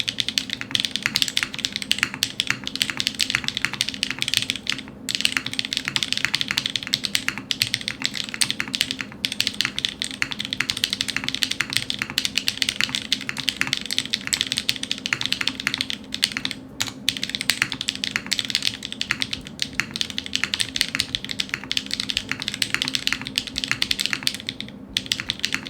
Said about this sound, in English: the build is Gateron stage switches with DCS Richat Keycap set